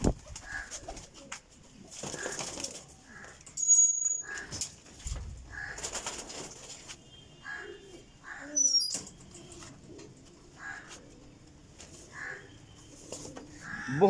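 Pigeons coo in soft repeated bursts close by, with brief wing flaps and rustling, while someone talks over them at intervals.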